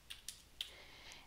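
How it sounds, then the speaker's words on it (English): Typing on a computer keyboard: three or four quiet, crisp key clicks spaced irregularly over a faint steady room hiss. "you can actually click in and then start typing in this area"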